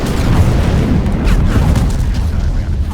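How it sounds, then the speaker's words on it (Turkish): Loud rumbling explosion from the 2010 PC game Medal of Honor, a deep booming roar with scattered crackling debris that swells and rolls on for several seconds. "Bizimkini vurmaya çalışıyordunuz, kendiniz patladınız."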